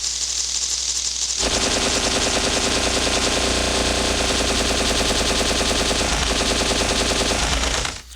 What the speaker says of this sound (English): who in the hell was shooting all those machine guns? Those were supposed to be those flying cockroach enemies